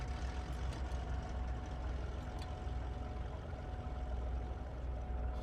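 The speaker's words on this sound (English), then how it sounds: "Get engine 2 starting." Cessna 414 second engine in a flight simulator running up after start, a continuous loud piston-engine drone with steady low rumble and faint tonal hum throughout, a few small clicks, no voices.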